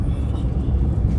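Car driving along the road to Ebisu Circuit, heard from inside as a steady, close low rumble of engine and road noise that runs unbroken throughout, with no talking.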